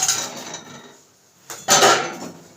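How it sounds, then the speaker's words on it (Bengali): Fish tipped into a pan of simmering fish curry, a metallic clatter and sizzling splash that bursts loud after a brief quiet pause, following earlier utensil scraping. "মাছটাও ঢেলে দিচ্ছি"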